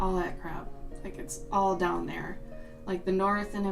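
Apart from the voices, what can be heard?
None of the usual background noises is heard.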